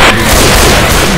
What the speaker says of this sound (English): Throwing a pipe bomb!